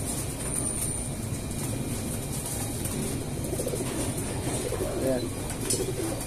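Small pigeons coo in a steady low murmur against constant background noise, with a person speaking briefly over the birds.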